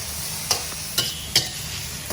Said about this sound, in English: now you mix well again